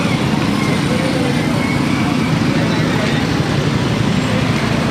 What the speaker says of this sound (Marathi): ट्रॅफिक जाम झाला.